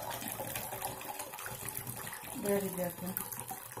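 Marinade liquid pours from a two-liter jar of pickled tomatoes with sweet peppers, a steady splashing, gushing flow running close by as a voice speaks briefly over it.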